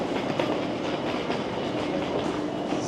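Dutch InterCity double-decker passenger train heard from on board, a steady loud rumble of wheels on rails with faint clickety-clack rhythm throughout, no talking.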